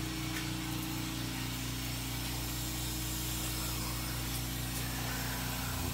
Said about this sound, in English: Okay, compressor is running.